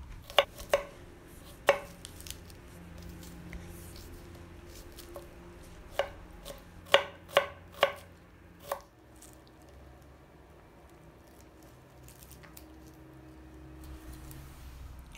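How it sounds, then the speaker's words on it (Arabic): Two large garlic cloves are finely minced with a knife on a board: sharp, close chops in short bursts, then a long quiet stretch. "عندي سنايتين توم كبار كمان رح أفرمهم ناعم وضيفهم فوق البصل"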